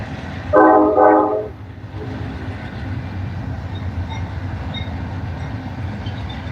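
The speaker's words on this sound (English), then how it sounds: "I was just waiting for the train to go by there so you guys can hear the chat" A passing train sounds a loud two-blast horn near the start, then its rolling rumble carries on steadily underneath for the rest of the clip, with no voices.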